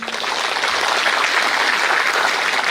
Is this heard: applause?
yes